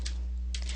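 Quick bursts of keystrokes on a computer keyboard as a web address is typed, close and fairly quiet over a steady low hum, with a short pause between the two flurries.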